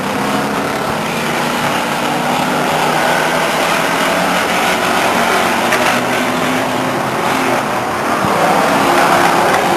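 Race cars lapping at Stockton 99 Speedway during a 2000 race, a loud continuous roar of several engines blending together, with no announcer voice over it.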